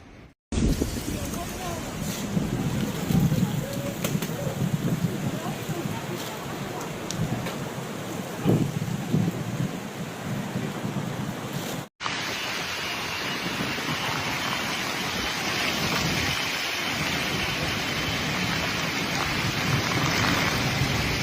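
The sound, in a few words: thunderstorm with heavy rain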